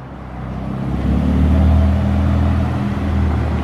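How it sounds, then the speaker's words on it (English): Ferrari F8 Tributo passing on a London street, a loud, close, steady engine drone that swells toward the middle and stays strong as it goes by. "F8 Tributo driving by."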